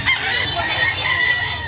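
Crowded poultry market in Lipa City, Batangas, with Sanino White roosters for sale; a dense, loud wash of overlapping crowing and clucking from many birds fills the space continuously, with faint voices mixed in.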